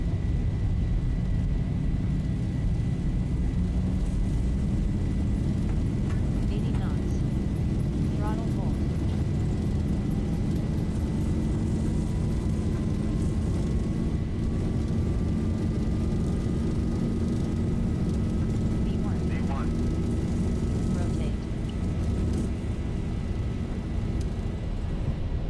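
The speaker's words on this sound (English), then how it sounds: "Takeoff thrust set." Jet engines at takeoff thrust on a Boeing 737 in the Zibo mod flight simulator, a steady loud roar with a rising tonal whine, running continuously with faint talk over it.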